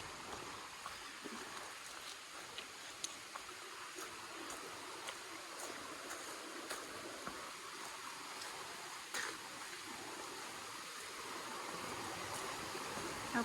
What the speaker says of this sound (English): Looks like I'm crossing Gould Brook.